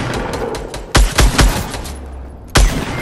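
Gunfire in Fortnite Battle Royale: loud, close bursts of rapid shots in several clusters, separated by brief pauses, over steady game background noise.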